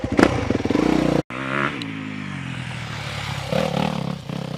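A supercross motorcycle ridden through dirt ruts: the engine revs and drones loudly, cuts out abruptly for a moment, then picks back up with a steady hum and a few surging throttle bursts.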